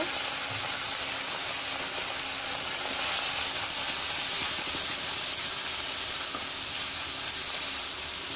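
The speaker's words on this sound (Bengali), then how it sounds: "এভাবে ভালো করে একটু কষিয়ে নিতে হবে।" Fish with turmeric and chili powder sautéing in a pan for a Bengali fish and Malabar spinach dish, giving a continuous loud hiss and sizzle with no talk.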